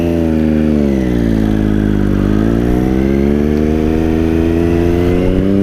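A motorcycle engine fires up and revs steadily, its loud, close drone rising and dipping in pitch through a single throttle blip before settling into a sustained run.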